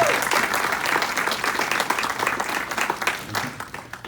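An audience at a township annual meeting claps for township staff, a loud burst of applause that holds steady and then gradually thins out toward the end.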